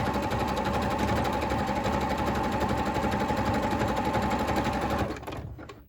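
A sewing machine zigzag stitching fabric runs in a loud, fast, steady mechanical chatter close by, then stops abruptly near the end, leaving a brief fading rattle.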